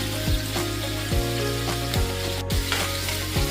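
Sausages, onion and spring onion fry in a pan for budae jjigae, producing a loud, close, constant sizzle with regular rhythmic scraping pulses, likely from stirring, and no talk.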